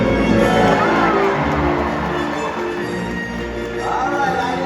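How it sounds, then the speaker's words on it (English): Audience cheering at an orca show, a loud sustained roar of crowd cheers, whoops and children's shouts that holds steady and swells again near the end. "When we see her, give her a great big cheer!"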